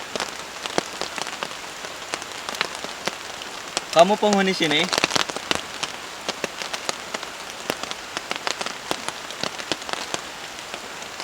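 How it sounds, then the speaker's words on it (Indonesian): Heavy rain at a campsite drums steadily and loudly on a surface throughout, with a voice briefly speaking partway through, partly masked by the downpour. "ini kedengaran paling kencengnya itu hujan"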